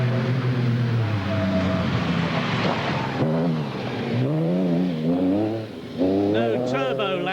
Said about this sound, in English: No turbo lag to worry about on the 3-litre V6 engine.